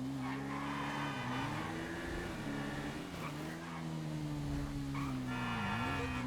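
A motorbike is ridden in the GTA V video game, its engine droning loudly and without a break. The pitch swings up and down as the bike speeds up and eases off, with road and tyre noise underneath and no talking.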